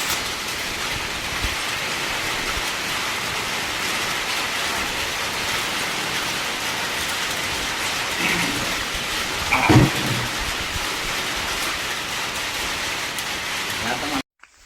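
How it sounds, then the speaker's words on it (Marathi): Steady rain falling at the foot of Raigad fort, a continuous dense hiss that fills the clip at an even level, with a brief louder patch near the end and no speech. "इथे पावसाची सुरुवात झाली. पावसाचा आवाज येतो का तुम्हाला?"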